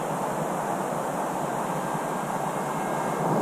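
An RMRC Strix Goblin RC plane flies at quarter throttle, giving a steady, even motor whine under broad wind rush that holds at a constant level throughout.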